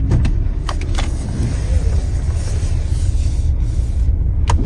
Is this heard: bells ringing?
no